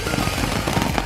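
A Pistol Pete TNT firework goes off in a rapid, crackling string of sharp pops and bangs at a Fourth of July celebration, loud and dense throughout the short burst.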